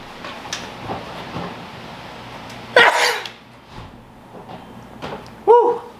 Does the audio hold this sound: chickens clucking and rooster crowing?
no